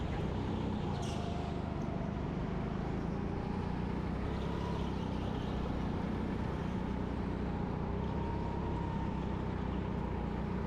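Go-kart racing on a heavyweight track at a Birmingham local final, a continuous engine drone with rising and falling pitch as the kart circles, steady and fairly loud with no talk.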